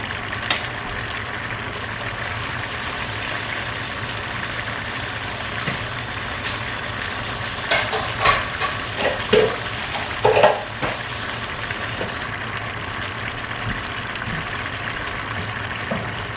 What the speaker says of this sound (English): I'm going to add all those potatoes.